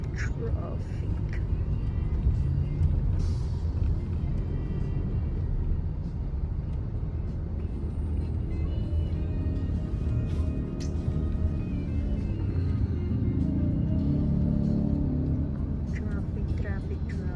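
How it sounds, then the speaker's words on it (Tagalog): Street traffic in the Philippines, near the Katipunan and Rodriguez area: a steady, close low rumble of car and motor vehicle engines that runs throughout, with people talking over it. "Traffic."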